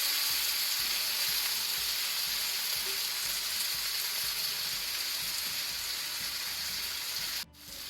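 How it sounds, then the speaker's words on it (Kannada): Tomatoes frying in a pan for prawn masala give a steady, close sizzle and crackle that runs unbroken, then cuts off abruptly near the end. "ಟೊಮ್ಯಾಟೊದೆಲ್ಲ ಹಸಿ ವಾಸನೆ ಹೋಗೋ ತನಕ ನಾವು ಫ್ರೈ ಮಾಡಬೇಕು."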